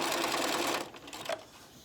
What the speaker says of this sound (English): Now I'm going to put that under my presser foot, and I'm just going to sew